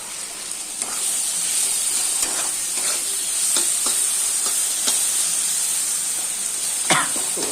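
Vegetables such as eggplant and onion fry in a pan, with a steady close sizzle, a bright hiss and scattered scrapes and taps from stirring throughout.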